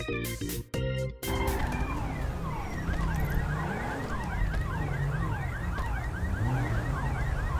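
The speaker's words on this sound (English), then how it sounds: "I hear a car alarm." A car alarm in the video game GTA V cycles through rapid, repeating up-and-down warbling tones, sounding from a moderate distance after a few sharp bursts at the start.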